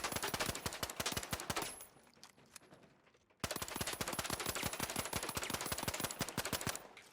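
Pistol gunfire in a video game shooter: a fast, steady string of loud, close shots that breaks off briefly, then resumes in the same rapid rhythm.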